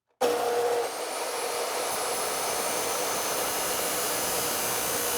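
Lower radiator hose for a Chevy Nova being cut with a power tool: a loud, steady rushing whine starts abruptly and holds unbroken for about five seconds, close to the mic.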